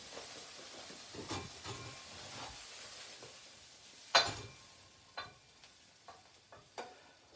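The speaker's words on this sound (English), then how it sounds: "So now I'm going to transfer this into another bowl" Fried rice with chicken and onion is scooped from a frying pan into a bowl, giving faint scraping clinks and soft sizzling with several sharper taps of a utensil against the pan.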